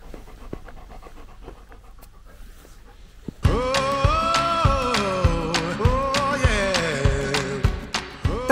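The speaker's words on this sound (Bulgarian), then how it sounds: "кученце!" A puppy pants close by, breathing in quick, loud, rhythmic gasps with a faint whiny edge, starting abruptly after a quieter outdoor stretch.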